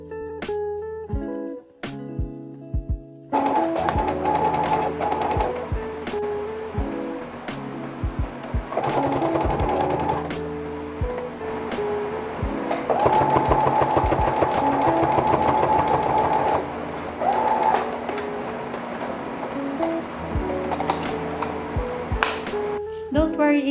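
Sewing machine stitching along a pants hem in bursts of rapid mechanical whirring, interrupted by short pauses and handling clicks, with background music throughout.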